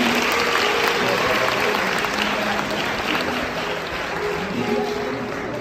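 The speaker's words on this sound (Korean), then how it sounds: "다시 한번 힘찬 박수 한번 부탁드립니다" Wedding guests in a Lotte Hotel ballroom applaud steadily, a dense, even wash of clapping that holds at full strength for several seconds with only a slight easing toward the end.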